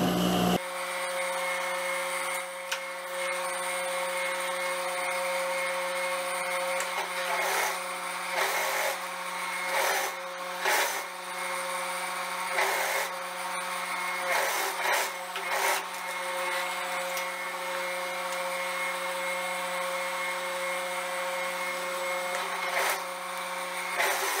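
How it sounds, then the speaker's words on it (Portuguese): A sewing machine stitching the side seams of a skirt, running in a steady close whir with brief pauses and restarts over about twenty seconds, no talk. "agora eu vou costurar essas laterais aqui nessa parte, que é o meio frente"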